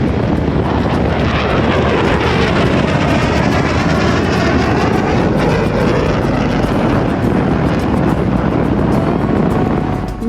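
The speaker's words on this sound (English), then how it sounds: "Larry was super excited to see some F-35 fighter jets flying their landing pattern above us." F-35 fighter jets flying a landing pattern overhead near a highway in Alaska: a loud, steady, broadband jet roar filling the whole stretch, with no talk.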